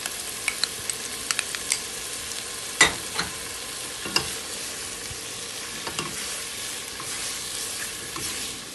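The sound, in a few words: stirring colored peppers and tomato sauce in a pan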